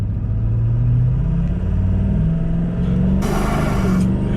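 A heavy work truck launches from a dead stop on a road, its engine droning low and rising steadily in pitch as it pulls, loud and close, with a burst of hiss near the end.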